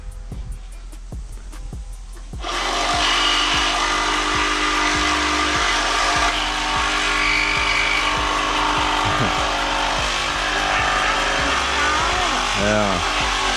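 A power saw with a special blade cuts through a house's old window frame, biting into screws and nails; the motor kicks in loudly and runs in a long, harsh, continuous whine close by, with brief speech before it starts.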